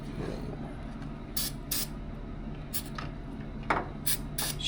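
Short hissing spray bursts from an aerosol can aimed at engine parts, half a dozen quick puffs at irregular intervals over a low background hum, fairly close.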